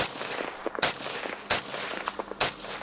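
Gunfire at a Finnish two-gun shooting competition: three sharp, loud shots spaced roughly evenly apart, with quieter shuffling and movement between them and no talking.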